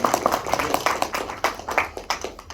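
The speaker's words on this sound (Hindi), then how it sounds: "तो आप लोग तालियां बजा सकते हैं" Scattered hand clapping from a small audience at a presentation, uneven and fairly close, lasting a couple of seconds.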